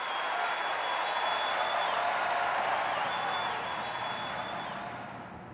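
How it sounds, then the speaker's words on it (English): Enthusiastic applause from an opera audience as the cast of The Magic Flute takes its bows: a dense, sustained wash of clapping from a large crowd that slowly fades near the end. "As the cast takes their bows, there is enthusiastic applause."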